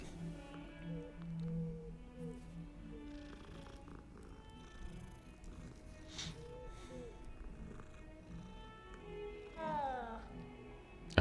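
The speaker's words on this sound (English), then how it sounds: "It's a cat." Purring and soft meowing from a cat in the video game Hogwarts Legacy, quiet and continuous against faint game ambience and music, with a brief rising mew near the end.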